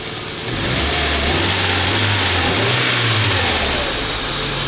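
A car engine runs on its second start with a close, steady drone. It settles into an even idle after a brief rise in pitch.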